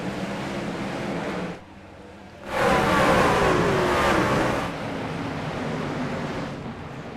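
Truck engines in the iRacing Truck Series video game roar as the pack accelerates at the race start at Bristol, a loud sustained surge that swells in the middle and then drops back to a steady drone.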